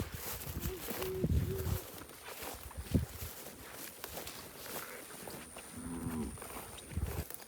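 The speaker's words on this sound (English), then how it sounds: "I swear I heard a cow" Low cattle moos call out a few times at a distance, with soft footsteps and rustling in between.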